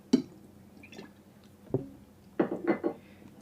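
Vinegar splashing into a bowl of boat noodle soup in a few short liquid drips and squishes, quiet and close, with a small knock.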